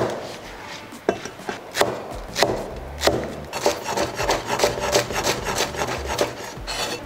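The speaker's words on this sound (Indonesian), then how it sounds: "Lalu ini tinggal diiris aja sih si daun bawang dan juga cabenya." Knife slicing spring onion and chili on a wooden board, a steady series of close rasping, rubbing strokes with occasional sharper chops, alone without talk.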